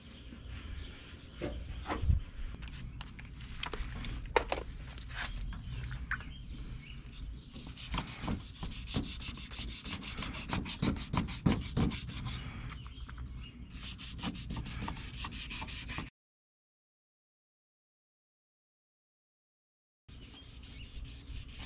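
Sandpaper rubbed by hand across a faded car headlight lens: steady, raspy back-and-forth scrubbing, close and continuous, then a few seconds of silence before the rubbing resumes.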